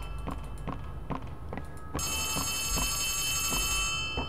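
A phone rings in the horror video game Poppy Playtime Chapter 3, a regular series of sharp ringing pulses about every half second, joined partway through by a bright, sustained high electronic tone.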